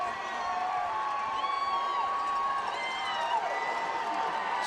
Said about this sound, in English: The crowd you hear is the Central Dauphin crowd, urging their defense on.